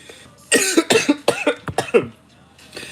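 A run of sharp, harsh coughs in quick succession, close and loud, then quiet.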